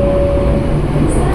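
A Tokyo Metro 6020 KRL commuter train runs on the Cikarang line, heard from onboard as a steady, loud rumble with a faint constant whine, and no talking.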